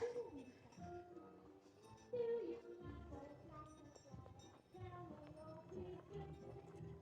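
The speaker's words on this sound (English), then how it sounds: "Oh, here comes more horses." Horses walking past at a night festival at Upper Canada Village, hooves clip-clopping in an uneven rhythm at moderate distance beside clinks and a crowd murmuring.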